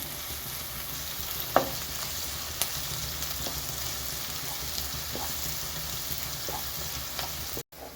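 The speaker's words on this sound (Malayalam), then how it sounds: "സവാളയും ചേർത്ത് കൊടുത്തതിന് ശേഷം നല്ലതുപോലെ മിക്സ് ചെയ്യുക." Chopped onion is stirred into chicken thoran frying in a pan, giving a constant dense sizzle with a few sharp spatula clicks scattered across it. The sound is close and steady, and no one speaks.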